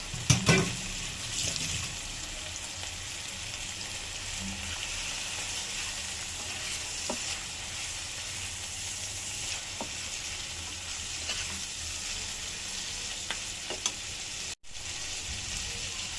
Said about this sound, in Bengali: আগে একটু ভাজা ভাজা করি, তারপরে মশলাগুলো দেবো।